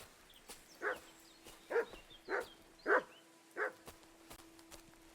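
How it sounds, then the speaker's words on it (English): A wild dog in the game Kingdom Come: Deliverance II gives five short, separate barks, mixed with whimpering yelps, about a second apart. They sound fairly close over a quiet outdoor background. "Oh, it's a wild dog."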